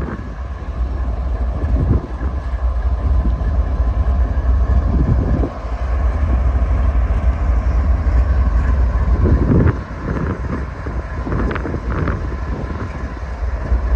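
A train rolls past on the rails with a loud continuous rumble and clatter, with intermittent clunks and rattles of cars and no talk.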